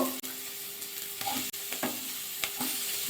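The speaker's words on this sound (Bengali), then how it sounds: "নাড়াচাড়া করে কিন্তু আলু আর গাজরকে একটু ভাজা করে নিলাম" Potato and carrot pieces fry in a pan while a spatula stirs them, giving a moderate sizzle under sharp, irregular scraping clacks close at hand, with no voices.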